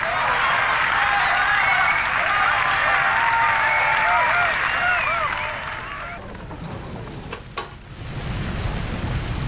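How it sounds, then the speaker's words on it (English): Steady rain roars loudly in BioShock 2's underwater city of Rapture, a dense, constant hiss with crackling texture that thins out near the end, while low rumbling thunder swells underneath. "It is raining in Rapture, and you have simply chosen not to notice."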